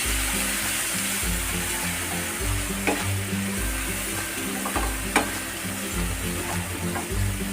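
Ground masala paste frying in oil for a kolhapuri-style rassa curry, a continuous close sizzle with repeated scraping, stirring strokes and occasional spatters, no talking.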